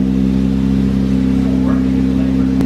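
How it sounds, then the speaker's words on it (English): A boosted Toyota MR2 Spyder with a 1ZZ engine drones loud and steady through its exhaust. The engine holds a constant, strongly tonal pitch at close range, ending with a brief sharp tick. "This exhaust sounds way better than before"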